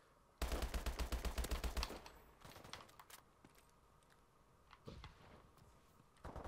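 Rapid automatic HBR A3 rifle fire in Call of Duty Advanced Warfare: a loud, fast burst of shots lasting over a second, followed by scattered fainter shots and impacts.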